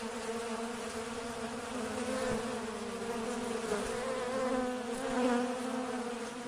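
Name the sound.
Carniolan honey bees buzzing at urban hives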